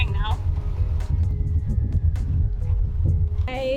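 A sailboat smashes through rough seas at night, with a deep, constant rumble of hull and water close by and someone talking over it.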